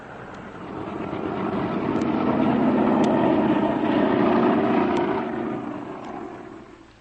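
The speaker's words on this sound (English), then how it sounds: "Rapidly, the graceful airliner taxied down the runway and was soon climbing skyward." Propeller airliner engines roar steadily as the plane taxies and climbs away, a swelling, sustained drone that peaks midway and then slowly fades, an old-time radio sound effect.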